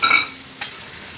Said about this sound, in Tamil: இங்கே பாருங்கள், வெங்காயம் வதங்கியிருக்கு பாருங்கள்.